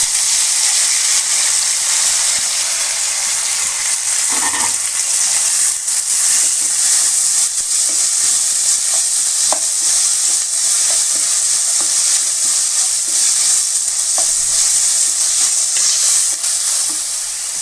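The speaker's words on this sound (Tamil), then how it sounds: "இப்போ அடுத்தது வெங்காயம், தக்காளியை" Steady loud sizzling of onion and tomato frying in hot oil, with occasional stirring scrapes, no voices.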